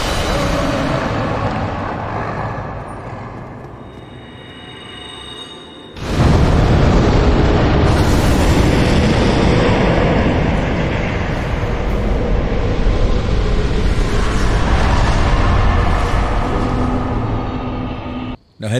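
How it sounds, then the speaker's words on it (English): Fire Tempest pillars erupting against the dragon Seath in Dark Souls: a sudden loud roaring burst of fiery booms that holds as a sustained, crackling rumble for many seconds after a quieter stretch. "he's gonna get hit with so many Fire Tempest pillars"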